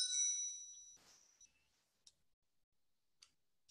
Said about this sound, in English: My apologies for my very busy phone today.